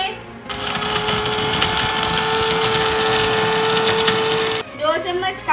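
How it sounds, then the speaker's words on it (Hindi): Electric grinder pulverising whole spices such as star anise, black and green cardamom, loud and close with a steady high whine for about four seconds, then cutting off into a brief rattling spin-down. "ये सारे मसाले अब हम इसे ग्राइंड करेंगे"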